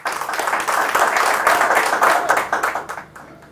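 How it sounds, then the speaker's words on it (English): A small audience at a media literacy talk claps for a speaker, a loud, close burst of individual hand claps lasting a few seconds before thinning out. "Ladies and gentlemen, a round of applause for Mr. Justice Okai Alote"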